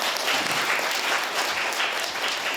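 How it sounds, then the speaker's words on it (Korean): Audience applause welcoming a guest, the vice minister of unification, at an awards ceremony and talk show; a dense, steady wash of many hands clapping fills the room, fairly loud and even throughout without talk. "뜨거운 박수로 환영해 주시기 바랍니다."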